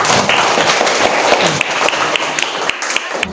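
Classroom applause from students in a school lesson, a dense burst of clapping that thins out toward the end into a few scattered claps.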